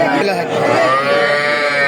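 A loud, drawn-out cow moo close by at a cattle market in Ambari, Parbatipur, Dinajpur, Bangladesh, low and steady, with a faint murmur of people behind it.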